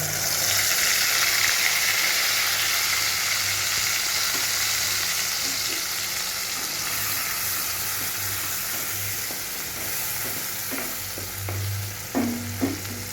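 Spice paste frying and being stirred in a pan for Gondhoraj cauliflower, a steady close sizzle with occasional scraping stir strokes, loudest at the start and continuing throughout without talk.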